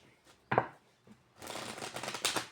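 Playing cards are shuffled by hand at close range, with a brief riffle burst followed by a longer run of soft, dense fluttering clicks, no talk over them.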